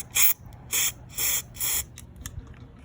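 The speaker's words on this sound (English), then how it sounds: "I spray a little ether inside the brake cleaner, ether, starting fluid, whatever we want to call it, inside the carburetor." Ether starting fluid is sprayed into the carburetor of a weed eater in four sharp, evenly spaced hissing bursts, followed by faint handling clicks.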